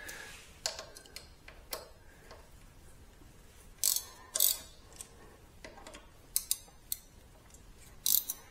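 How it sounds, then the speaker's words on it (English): Scattered short mechanical clicks from a hex tool being worked on the 4 mm Allen screws of a Ducati Multistrada 1260S front fork, coming in sparse, isolated bursts over a quiet background. "So we need to remove these two screws. It needs Allen key size of 4 millimeters."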